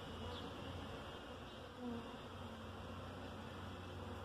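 Bees swarm around honey in an outdoor honey-eating challenge, giving a steady, close insect buzz that drones on throughout without speech.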